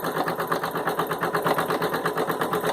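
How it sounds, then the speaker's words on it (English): A home embroidery machine stitches a fabric face mask held in the hoop, its needle chattering in a fast, steady mechanical rhythm that runs close and continuous throughout. "Now it's going to start stitching down here again."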